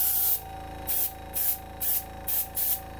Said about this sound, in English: I'm taking the airbrush.